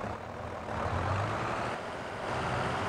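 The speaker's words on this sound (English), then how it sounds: "this has proven itself to be an excellent planting tractor." A farm tractor used for planting runs steadily with a continuous low diesel engine rumble, close and even in level throughout, with no voices.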